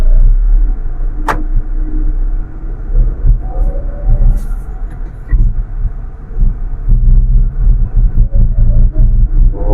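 A Renault Kwid Climber car starts and drives off, its engine a loud steady rumble with a sharp click near the start and a low hum continuing throughout.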